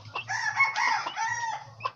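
A hen clucks and calls to turkey poults while teaching them to feed, a string of close, soft, throaty notes over a faint low background hum.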